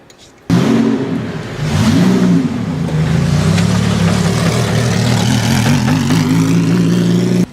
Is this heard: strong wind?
no